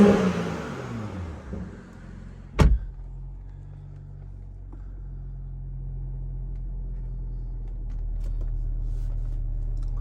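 A BMW M340i Touring xDrive with M Performance kit idles in Sport Plus mode with a deep, steady low rumble that swells slightly toward the end, after a brief sharp thump near the start.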